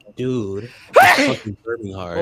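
A single loud, abrupt sneeze bursts out between stretches of a man's speech, sounding close and sharp.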